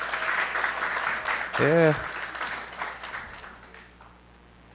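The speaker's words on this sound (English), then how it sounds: "give them a round of applause" Applause from the audience at the Bates Memorial High School 2024 graduation ceremony greets the graduating students, steady at first and fading out; a voice briefly speaks over it midway.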